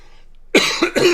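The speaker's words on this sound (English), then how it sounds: "Sorry to cough in your ear like that." A single sharp cough very close by, followed by two quick smaller coughs.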